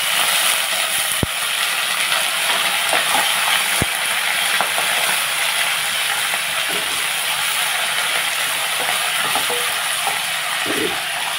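Green chillies and curry leaves fry in hot oil in a pan, giving a steady, loud, continuous sizzle with a few sharp crackles and pops, and no talking.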